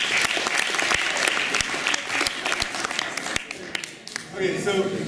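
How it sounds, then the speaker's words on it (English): A live event audience in Amsterdam applauds, dense clapping with sharp individual claps standing out, fading somewhat toward the end where voices begin to talk. "let's give them a round of applause."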